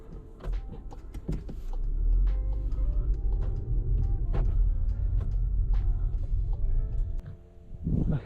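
A steady rumble of motor traffic goes by nearby on a road during a Cupra Formentor photo shoot, with scattered clicks and knocks over the continuous engine and road noise.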